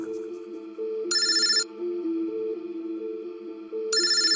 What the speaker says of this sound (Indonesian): aku mendapat telepon dari temanku, Billy.